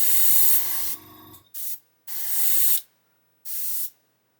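A Gaahleri GHAC-98D airbrush sprays in four separate bursts, a long steady hiss followed by three shorter ones with silent gaps between, each cut off sharply as the trigger is released; a low compressor hum runs under the first burst.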